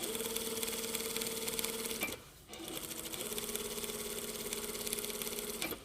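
A sewing machine runs a foot-width stitch along a shirt's folded centre front edge, a steady close whirring hum that pauses briefly midway and then resumes at an even pace.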